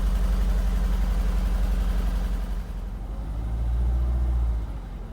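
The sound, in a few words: Ford ST170 engine idling with original exhaust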